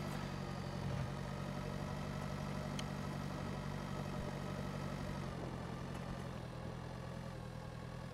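Tractor engine in the farming video game Pure Farming 2018, a steady low droning hum that holds at an even level with a slight change in tone partway through.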